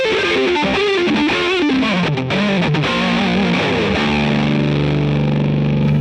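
An electric guitar played through an OX Box with distortion switched on: a loud, fat, saturated riff of sliding notes that ends on a sustained ringing chord, with no voices.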